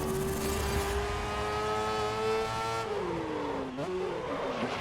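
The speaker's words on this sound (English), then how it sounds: "Has that sort of race car kind of sound to it." Soapbox race car engine in the racing video game GRID (2019), a steady, loud, high-pitched engine whine holding pitch, then dropping and shifting as the car slows and changes gear, with no talk.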